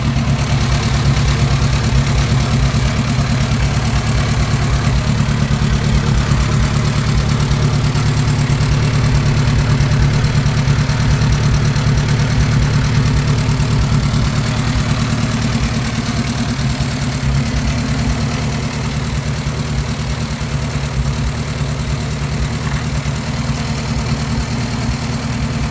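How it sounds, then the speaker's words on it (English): A classic Ariel Square Four motorcycle engine idles steadily after several months unused, a loud, close, even tick-over that runs unbroken and alone with no talking. "That is an absolutely beautiful tick over when you think it hasn't been going for several months."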